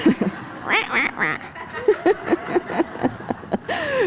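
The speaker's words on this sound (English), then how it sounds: "Drone attack by ducks." Several ducks quack close by in a rapid, irregular series of loud nasal calls, overlapping one another, outdoors beside a field.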